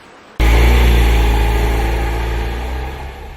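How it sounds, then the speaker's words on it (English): The small engine of a Tata Nano, mounted beneath the rear seat, running hard: a loud, droning motor that starts abruptly and holds close and steady, easing slightly over a few seconds. "When the Nano's small engine is running hard, it can be quite noisy."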